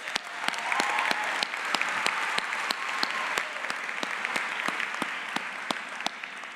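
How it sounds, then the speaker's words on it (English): A large graduation audience at Springfield International Charter School gives a sustained round of applause, dense steady clapping with sharp individual claps standing out throughout, loud and close. "Now's the appropriate time to give them a nice round of applause."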